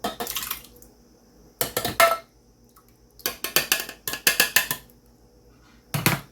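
Canned tomatoes, diced, paste and sauce, along with jarred tomato basil sauce, are dumped into a crockpot in a home kitchen, heard as several separate bursts of clattering, sloshing pours with quiet pauses between them and no talk.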